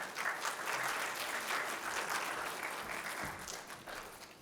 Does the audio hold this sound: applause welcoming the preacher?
yes